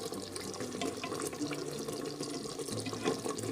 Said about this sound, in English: You can hear the bubbles.